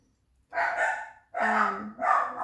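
Dogs bark and yelp in three loud, drawn-out bursts close by, the last two coming in quick succession.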